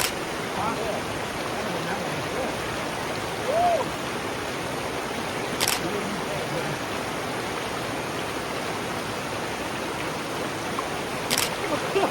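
Water rushes steadily over the rocks of a jungle waterfall stream, a continuous broadband hiss close by, with a faint voice and a couple of brief sharp clicks over it.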